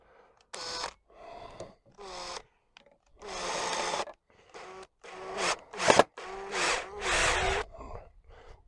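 Cordless drill set to screwdriver mode driving a screw into wood for a garden project, several short whirring bursts with pauses between them, close and clear.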